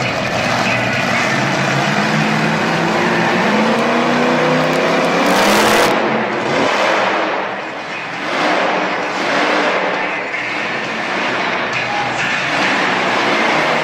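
The Blue Thunder monster truck roars through a Monster Jam freestyle run in a Pittsburgh stadium in 2017, its loud engine revving continuously, surging and dipping with throttle changes while crowd noise fills the background.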